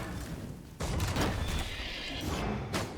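A horse in the video game V Rising lets out a whinny, heard as a loud, rough burst against dense game background noise.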